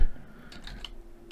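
Computer keyboard typing while a tutorial node is being named, a few soft quick key taps over a quiet room, close and faint.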